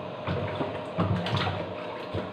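Vegetables being washed by hand in a basin of water, splashing and sloshing in uneven bursts close by, moderately loud with no talk.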